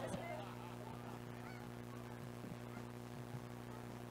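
Geese honk faintly and intermittently, a few distant calls over a steady hum and static, with a high-school football broadcast setting and no clear talk.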